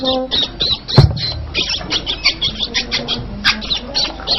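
A caged songbird chirping in a long, repeated series of short high-pitched calls close by, with a louder squawk near the start and no talk over it.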